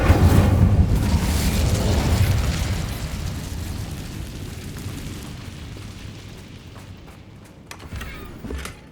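Incendio fire spell cast in Hogwarts Legacy, a heavy whooshing burst of flame that booms loudly at first, then rolls and fades over several seconds, with a small flare near the end.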